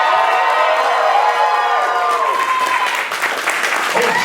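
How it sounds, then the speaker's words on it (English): An audience at an opening event cheers and claps together loudly and continuously, a dense wash of applause with scattered whoops and shouts, close and sustained throughout. "Let's hear you guys cheer."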